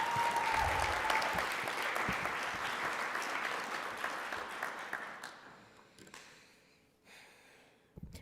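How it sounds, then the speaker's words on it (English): Audience applause for Devon Washington at a Colorado State University Black History Month kick-off, a full, steady wash of clapping that gradually thins and fades toward the end, with scattered claps trailing off. "Please give a round of applause to Devon Washington."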